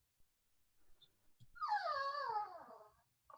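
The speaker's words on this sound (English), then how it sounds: "Are you hearing the dog in the background, Moira?" A dog whines and wails in a drawn-out, rising and falling cry for about two seconds, faint and distant in the background of an otherwise quiet room.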